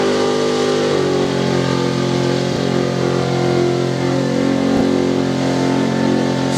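A 1976 Chevy Silverado mud bog truck from Plymouth, Pennsylvania, at a Bloomsburg, PA bog race, its engine roaring loud and steady, bogging down and straining under heavy throttle with a few brief dips.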